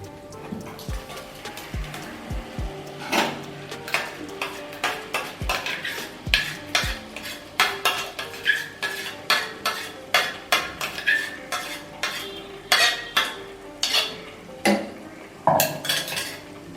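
Ground onion-tomato paste stirred into a pan for paneer chana masala, a rhythmic run of metal spoon clinks and scrapes against the pan over a soft sizzle, close and repeated throughout.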